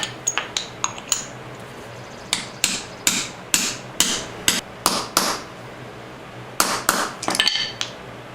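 A seal is tapped into the rear wheel hub of a 1973 Honda CB750 with a hammer and punch, giving sharp, close metallic strikes in uneven clusters with short pauses between them.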